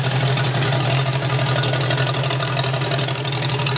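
A custom 1920s-style motorbike engine idles steadily and loudly at close range, a constant low throbbing hum that holds without change and with no talk over it.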